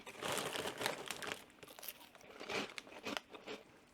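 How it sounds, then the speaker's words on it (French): Finely puffed snack balls being crunched in the mouth, a run of close, crisp crackling and crunching bites, fairly quiet, with no talk. "ça fait le pétillant quand tu croques, parce que du coup, c'est finement soufflé"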